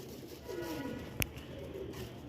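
Pigeon cooing, a bird kept by a Punjabi pigeon fancier for high long-duration flying: a soft, low coo arcs through the middle of the clip over steady background hiss, with a brief sharp click near the middle.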